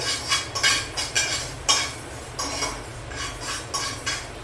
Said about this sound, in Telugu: మెంతులు దోరగా వేయించుకోవాలండి అప్పుడే మనకి బాగా ఏంటాయి